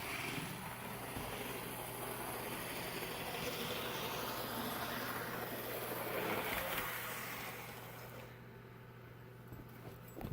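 An Athearn John Deere N scale (1/160) model train set locomotive running on its track at about a third throttle, a steady low whirring hum with a constant motor tone, fairly faint and continuous, with no voices.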